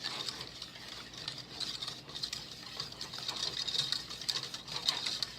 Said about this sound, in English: you just want to whisk this in until it's nice and combined